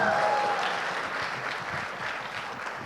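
Applause from a capacity crowd welcoming cricketer Anil Kumble at a live talk event in Karnataka, a steady wash of clapping that stays loud and slowly eases over a few seconds.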